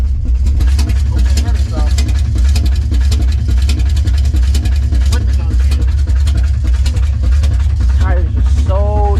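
A Ford Mustang engine idling up close, a loud steady low rumble with slight rhythmic pulsing throughout and a few brief higher whines near the end.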